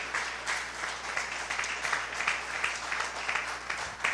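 A church congregation applauds during a Spanish-language sermon, steady dense clapping from a large crowd heard at a moderate distance, sustained evenly for several seconds without talk.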